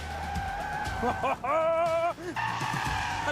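A Bentley Continental GT slides with tires squealing and skidding in long wavering shrieks, its engine note rising underneath, while a voice briefly speaks over it.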